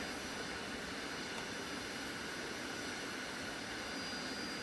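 Jet aircraft taking off in Arma 3, with flaps set for takeoff: a continuous loud engine roar with a whining top, steady from start to finish and no voices over it.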